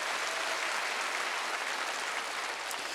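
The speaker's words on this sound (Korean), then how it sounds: "계시다고 믿는 사람만 박수 쳐보세요" A church congregation at a Wednesday worship service applauds, a steady, dense wash of clapping from many hands, moderately distant and continuous throughout with no speech.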